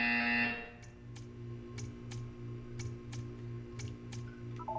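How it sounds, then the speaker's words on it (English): Repeated short buzzer beeps in Portal 2, sounding at an even pace over a low steady hum after a brief opening tone, clear and moderately loud. "You will hear a buzzer."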